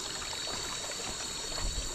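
Forest stream on a hike up Phu Kao Nang in a national forest reserve, flowing in a steady, soft, continuous rush of water with no other sounds standing out.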